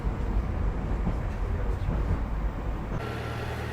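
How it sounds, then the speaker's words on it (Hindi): Steady, loud rumble of a metro train ride in Russia, a dense low roar of wheels and motor that holds throughout, shifting slightly in tone near the end. "मेट्रो लेकर मैं वापस से निकल पड़ता हूँ अपने हॉस्टल के लिए।"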